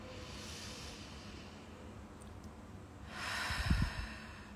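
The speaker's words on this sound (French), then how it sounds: "Prendre une profonde inspire par le nez, aller jusqu'au bout de votre inspire et puis expirer la bouche ouverte" A slow, deep breath drawn in through the nose during a calm relaxation exercise, faint and airy at first, then a louder, breathier rush near the end, close to the mic.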